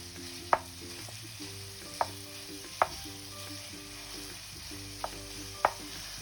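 Boneless chicken thigh strips sizzling in butter in a pot, with a steady low frying hiss and several sharp clinks of a spoon against the pot spaced a second or so apart.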